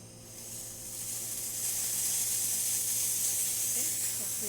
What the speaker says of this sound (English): Let that drip for a minute and we'll show you the steam.